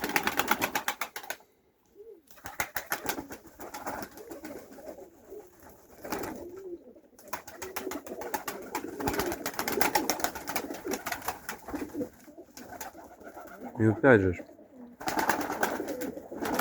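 Low pigeon coos repeat through the clip, mixed with rustling and someone talking in Ukrainian, with a brief flutter near the end.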